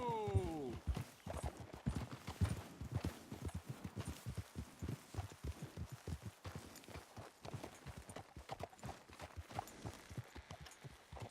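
Horse hooves clip-clop in Red Dead Redemption 2, a steady rhythmic run of close hoofbeats that slows toward a walk, with a neigh or snort near the start.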